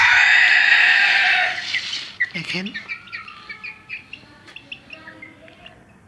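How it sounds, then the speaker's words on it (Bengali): Two naked-neck chicken chicks chirp indoors in a room, a string of high, sharp peeps close by after a short burst of louder noise, with someone briefly speaking over them. "এই দুটো গলা ছিলাম মুরগি দেখেন"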